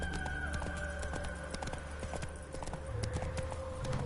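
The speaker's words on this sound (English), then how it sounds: "Damn you, horse." Horse hooves clip-clop in a steady trotting rhythm in The Witcher 3, close and clear over a continuous game background hum.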